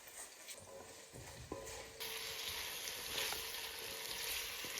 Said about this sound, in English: sautéed the vegetables with salt and pepper